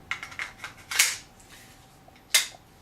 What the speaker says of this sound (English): Mag in gun. The mag is full metal apart from a plastic clip on the bottom.